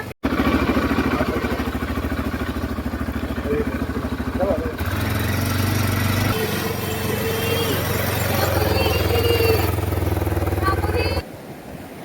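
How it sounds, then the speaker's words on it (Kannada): A motorbike or similar vehicle engine runs steadily nearby for several seconds, its tone and load shifting midway, with speech over it. "ಗಾಡಿ ಹೊಡಿತಾ ಇದ್ದಾನೆ."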